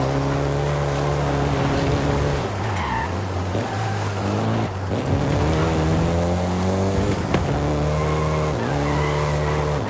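A Volkswagen Golf GTI in the Forza racing game, with its engine droning and rising through repeated gear shifts while tires squeal and skid through corners, loud and continuous.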